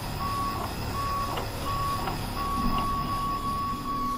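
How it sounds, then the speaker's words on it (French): Steady electronic beeping like a hospital heart monitor in the video game Get Even, a regular series of identical tones repeating about every 0.7 seconds over a constant hum. "ce petit bip là, un peu comme dans les hôpitaux quand vous avez un truc pour surveiller votre activité cardiaque"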